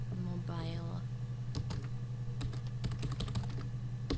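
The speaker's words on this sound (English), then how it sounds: "I wanted to type in his mobile phone." Computer keyboard typing in the video game Her Story comes as bursts of quick clacking keystrokes over a steady low hum, after a short voice-like tone near the start.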